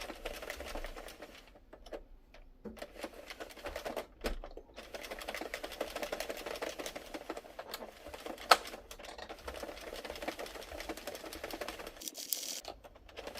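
An Addi Sentro circular knitting machine being cranked around with waste yarn, giving a steady, continuous mechanical clatter of needles and gears, fairly close and even throughout with a brief pause near the end.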